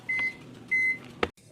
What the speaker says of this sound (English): my salmon is reheating in the microwave, which is about to done in the next 7 seconds